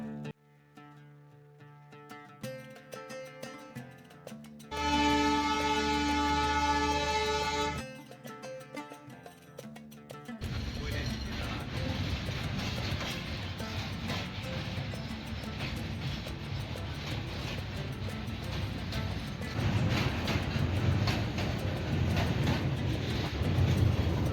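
A passenger train from Rajshahi sounds a long steady whistle blast, then starts moving, its rumble and rattle building into a continuous roar that grows louder as it picks up speed.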